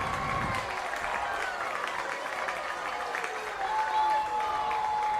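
A football stadium crowd at a Henderson State versus Southern Arkansas college game roars and applauds in a steady, dense wash of noise that stays loud throughout, with a commentator speaking over it.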